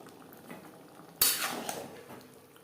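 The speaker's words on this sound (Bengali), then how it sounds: "মাঝে মধ্যে এভাবে একটু নাড়াচাড়া করে দিতে হবে" Bottle gourd cooking with rohu fish in a covered pot on medium flame is stirred once: a sharp utensil clink against the pot, followed by a brief wet, sizzling scrape under a soft simmer.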